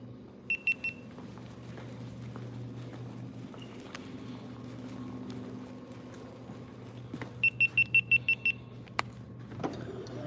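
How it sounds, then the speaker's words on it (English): Two bursts of rapid electronic beeping, a short run early and a longer string of about eight beeps later, over a low background hum. "Sorry about the beeping, guys."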